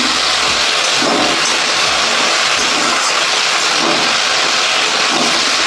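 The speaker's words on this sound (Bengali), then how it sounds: "ভেন্ডি আলুটা ভেজে নিচ্ছি।" Okra and potatoes fry in a pan with a steady, dense, close sizzle that stays loud and rain-like throughout, with no talk.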